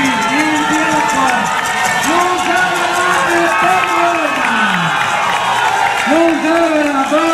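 Crowd at the finish of the 2014 Palio Pignarulars relay heat applauding and cheering as the last runners arrive, a steady dense wash of claps and voices with a commentator talking over it throughout.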